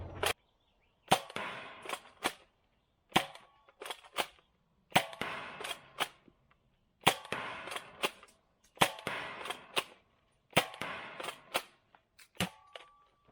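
Sentry X2 toy foam blaster fired repeatedly at an outdoor range: sharp, close pops, each followed by a short clattering burst of priming and reloading, recurring in regular groups across the span with brief quiet gaps between.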